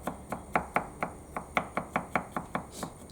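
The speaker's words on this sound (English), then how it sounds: "I'm just going to cut it a bit smaller" Knife chopping an ingredient on a board for chicken and bacon carbonara, a close steady series of about fourteen crisp, evenly spaced cuts with nothing else heard.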